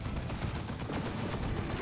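Lascannon fire from the Phobos tank in the strategy game Dawn of War 2, four las cannons plus twin-linked side sponsons, a dense continuous barrage of rapid booming shots with no gaps throughout.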